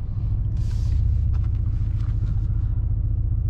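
A 2020 Mercedes-AMG C63 S sedan with a 4.0-litre V8 rumbles while driving, giving a deep, steady low engine drone heard from inside the cabin, with no talking.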